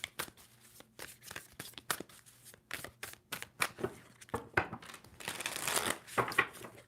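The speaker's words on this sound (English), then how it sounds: "2 more shuffles for Virgo." A deck of tarot cards is shuffled by hand in a rapid run of crisp riffling and slapping bursts, close and fairly quiet, with the shuffling growing denser toward the end and no talking.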